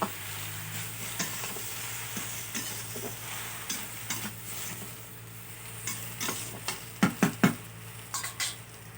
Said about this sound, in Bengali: এবারে শাকটা দিয়ে দেবো